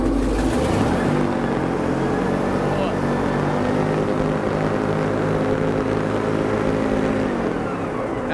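An airboat engine and propeller run loud and close, giving a steady, heavy droning roar with a propeller buzz. The pitch shifts slightly near the start and holds for about eight seconds.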